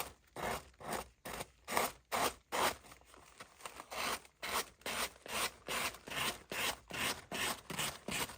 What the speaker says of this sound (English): with the sander, I'm going to lightly go sanding it downwards